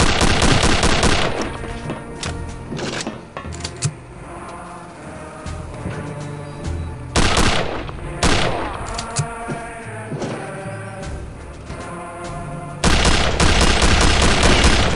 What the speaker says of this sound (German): Die ballern wieder, die Jungs.